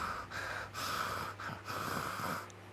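A voice imitates heavy, raspy breathing mixed with snoring, several rough inhale-exhale cycles in a row, close and steady.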